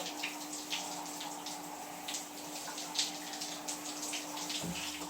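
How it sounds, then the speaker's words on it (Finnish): A shower runs steadily with a continuous close hiss of spraying water and faint splashes throughout, with no voices. "nyt hän on taas suihkussa. Tää suihku, tää on tosi kivaa"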